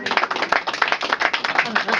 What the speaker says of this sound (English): Big round of applause for these guys, folks